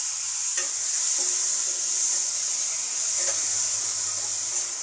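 Potatoes coated in turmeric and oil frying in a wok, giving a steady, close sizzle with soft stirring scrapes and no talk.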